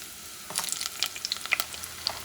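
Food caramelizing in a hot pan for a chickpea and shrimp soup, with light crackling sizzle and a few sharp pops and spits scattered over a low steady hiss, close and fairly quiet.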